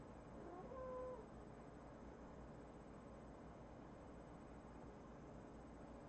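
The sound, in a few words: cat meowing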